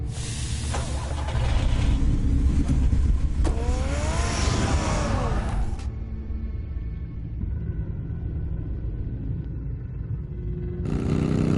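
A car engine revs in a Batman video game cutscene, a loud rising rumble that swells and then drops away to a quiet low hum before returning at the end.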